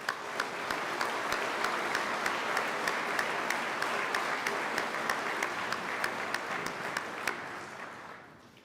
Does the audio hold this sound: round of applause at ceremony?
yes